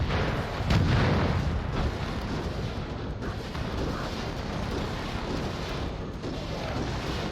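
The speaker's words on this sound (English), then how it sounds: "Barrage on target." An artillery barrage in the video game Crossfire: Legion rumbles continuously, with a heavy low boom near the start and a steady wash of distant blasts filling the rest of the stretch.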